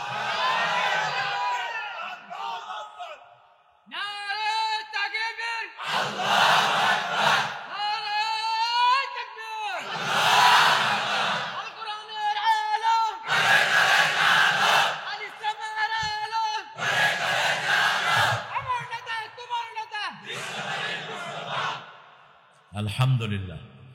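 A large crowd at a Bangla Islamic sermon gathering repeatedly roars the takbir call Allahu Akbar in loud unison, each chant answering a leader's call, with short pauses between bursts.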